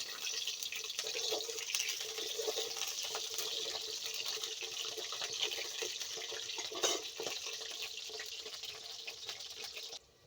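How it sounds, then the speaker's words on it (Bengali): New potatoes fry in oil in a pan over a clay stove, giving a steady, fairly faint hissing sizzle that holds evenly for about ten seconds before cutting off. "আলুগুলো ভেজে নিচ্ছি।"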